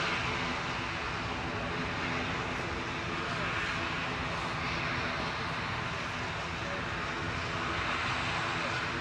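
An ATR turboprop arriving from Milan at Manchester Airport drones loudly and steadily with a broad, noisy engine roar; speech may run faintly underneath.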